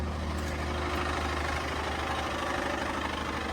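A broken-down Toyota or Lexus engine idling roughly outdoors, a steady low rumble with uneven knocking texture, continuous and moderately close with no voices.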